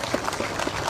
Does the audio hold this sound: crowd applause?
yes